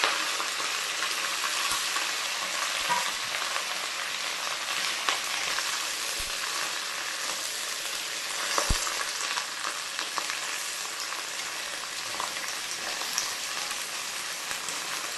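Washed mint and coriander leaves crackle and spatter in hot oil in a pan, a dense steady sizzle with scattered pops running the whole time, with no voices.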